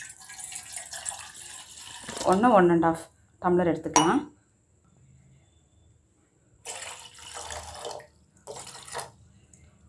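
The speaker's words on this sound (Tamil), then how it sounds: "இப்போ இது போல் ஒரு பாத்திரத்தில் நம்ம 1 டம்ளர் தண்ணி எடுத்து ஊற்றிக்கிறோங்க." Water poured from a tumbler into a cooking pot while preparing a homemade herbal decoction for cough and cold; someone speaks first, then two short splashing bursts follow, close and moderately loud.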